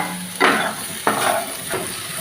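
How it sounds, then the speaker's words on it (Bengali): Potatoes and pointed gourd sizzle in a frying pan as a utensil stirs them in three distinct scraping strokes, each a bright burst over a steady low hiss. "দেখুন আলু আর পটল অল্প নাড়াচাড়া করা হবে"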